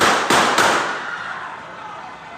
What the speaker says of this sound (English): You see a scuffle, and then you hear 3 gunshots.